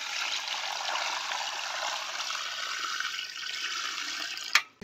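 Water pours steadily into a bowl of raw chicken with vinegar for a tikka marinade, a close, continuous splashing stream lasting several seconds before a brief clatter at the end, with no voices.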